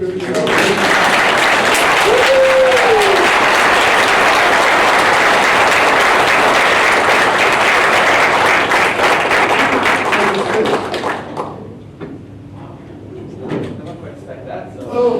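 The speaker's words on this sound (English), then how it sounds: "And now we can clap our hands" An audience at a social dialogue conference bursts into loud, dense hand clapping that holds steady for about eleven seconds, then dies away into scattered claps and quiet room noise.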